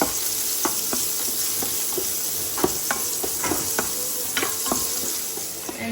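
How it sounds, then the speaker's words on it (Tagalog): Chopped ginger sautés in hot cooking oil with a loud, constant sizzle, punctuated by repeated scraping and tapping strokes of a stirring utensil. "gisa ko tong luya"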